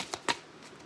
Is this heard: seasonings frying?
no